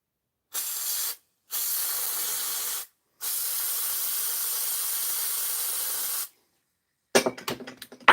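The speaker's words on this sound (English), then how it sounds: "Some of Pat's super spray in here" An aerosol can hisses in three loud, steady bursts of spray, the last and longest lasting about three seconds, followed by brief clattering handling noises.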